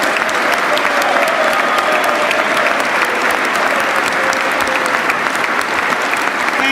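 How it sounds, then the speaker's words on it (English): A city council meeting audience applauds soldiers of an infantry battalion, loud dense clapping held at an even level throughout, with faint crowd murmur beneath. "let's all give a great round of applause and thanks to the soldiers of the 1st Battalion, 181st Infantry Regiment"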